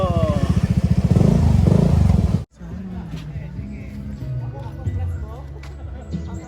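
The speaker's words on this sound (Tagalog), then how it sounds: "Motorsiklo." A motorcycle engine rumbles loudly up close for a couple of seconds, then cuts off abruptly, leaving quieter background noise and murmuring voices.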